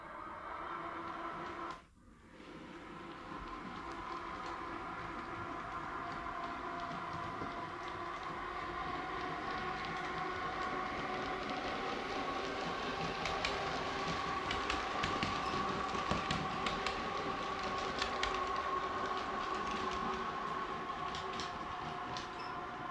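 A model train runs steadily along its track, a constant mechanical whir with faint rhythmic clicking, after a brief dropout near the start.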